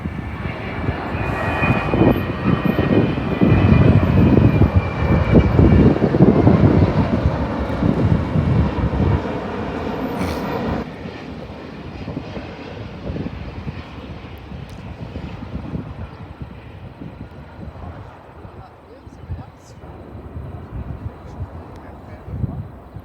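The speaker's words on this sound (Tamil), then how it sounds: "பெரிய ஃப்ளைட் ஒன்று வருது, எப்படி வருதுன்னு பாருங்கள்." Large airplane passing overhead near an airport, seen from a roadside; a loud roaring jet engine swells, peaks and slowly fades, with wind buffeting the microphone.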